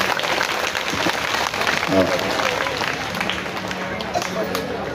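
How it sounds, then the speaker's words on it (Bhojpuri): Audience applause at a religious discourse during a Chandi Mahayagya gathering, a steady crowd clapping that lasts throughout, with a speaking voice over it. "अगर बात अच्छा लगे तो ताली बजा दें"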